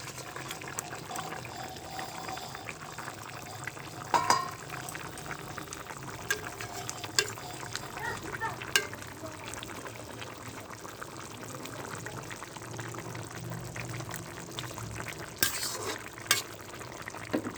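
Fish curry bubbling in a pot, cooked with ground green chilies and bay leaves, gives off a steady soft simmering hiss with occasional faint clinks and stirring sounds, no talk over it.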